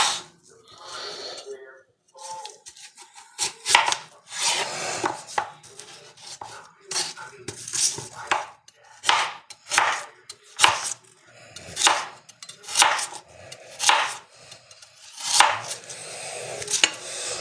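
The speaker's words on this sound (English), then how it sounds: "really hate the sound of a scraping knife on a board" Knife chopping and scraping across a cutting board while preparing quick pickles, a steady run of sharp, close, rhythmic knocks with brief scrapes between, nearby and fairly loud.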